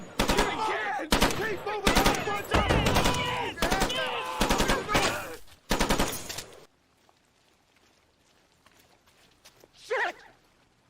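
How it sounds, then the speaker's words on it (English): Live machine gun rounds from the World War II shooter Call of Duty (2003) come in rapid, loud bursts. Heavy chattering fire runs for about six seconds, then drops to near silence, and a brief voice is heard near the end. "Sounds that you are hearing are live rounds"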